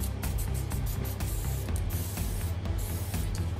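Lubricant sprayed onto a Stihl HLA 85 cordless hedge trimmer, a close, loud steady aerosol hiss running without pause for several seconds, with no voices.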